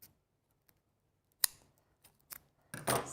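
Scissors cut a paper balloon sentiment die piece in two with a few quiet, crisp snips spaced apart, the last ones quicker and louder.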